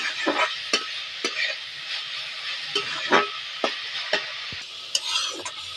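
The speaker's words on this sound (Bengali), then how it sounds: "ভালো করে নেড়ে চেড়ে ভেজে নেবো" Cauliflower fries in a pan with a light steady sizzle while a spatula stirs it in repeated quick scrapes and taps, close up and without voices.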